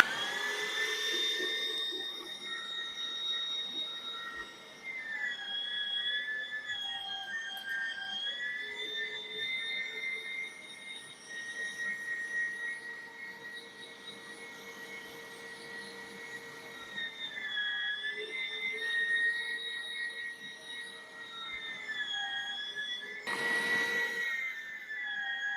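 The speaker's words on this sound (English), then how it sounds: "We started grinding our meat up. Grinder turned on." An electric meat grinder runs steadily, grinding meat for burger patties, giving a continuous high whine with tonal bands that shift slightly in pitch, with a brief louder burst near the end and no talking.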